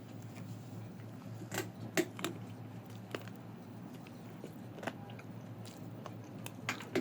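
Close, quiet biting and chewing of a fried chicken leg piece, Saudi Al Baik broasted chicken, with soft crunches and wet chews at irregular intervals over a low room hum, no talking.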